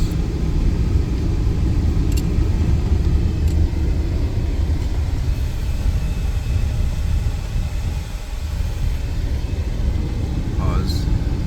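Steady low rumble of a car driving slowly through the grounds of the Amache internment camp in southern Colorado, continuous road and engine noise close by with no voices.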